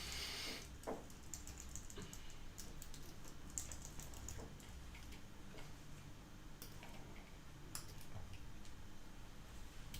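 Faint, quick irregular clicks of typing on a computer keyboard during a lecture, scattered keystrokes ticking softly over a low background hum.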